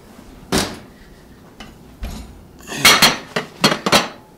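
A gloved hand takes a pot out of the oven for no-knead bread, bringing sharp metallic clanks and knocks of pot, lid and oven door, scattered at first and then clustered near the end, with no talking.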